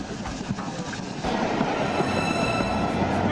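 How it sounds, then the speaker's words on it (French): A high-speed train rushes past close by, a loud roar that suddenly swells partway through into dense clattering wheel noise with a faint high squeal. "Un train spotter presque tué par un train à grande vitesse"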